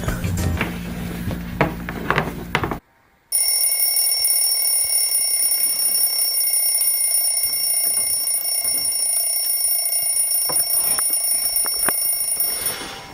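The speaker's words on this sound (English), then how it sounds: "There's the alarm" An alarm clock rings steadily and loudly, a bright continuous electronic tone that runs on after a brief gap, with faint room noise beneath.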